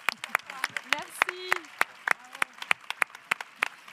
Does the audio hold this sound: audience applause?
yes